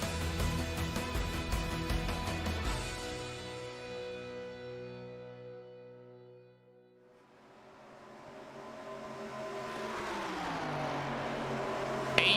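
Race cars lap Charlotte Motor Speedway in iRacing, one engine's drone fading away and another swelling in as it passes close, rising in pitch before a quick burst at the end.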